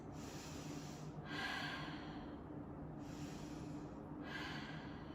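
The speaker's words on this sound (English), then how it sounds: "We take a few deep breaths." Slow, deep breaths in a reformer Pilates class, three long airy exhalations close to the microphone, spaced a couple of seconds apart over a steady low background hum.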